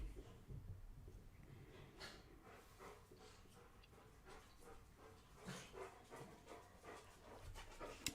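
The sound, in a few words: puppies panting and coming downstairs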